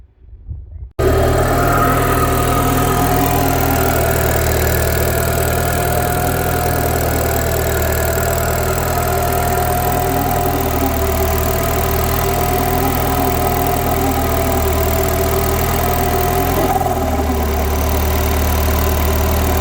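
A Citroen DS3 idles with its exhaust blowing at a leaking downpipe, a loud, steady, low engine drone that starts right after a short click and runs unbroken, alone.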